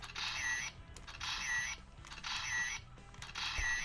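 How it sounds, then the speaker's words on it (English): A toy camera's shutter switch on an Ichigan Buster is pressed repeatedly, giving four evenly spaced bursts of a whirring, clicking mechanical shutter effect at close range over faint background noise. "here's the shutter switch."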